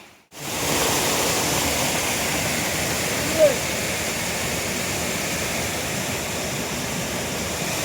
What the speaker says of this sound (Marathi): आपल्या वाडीच्या खालीच आहे हा धबधबा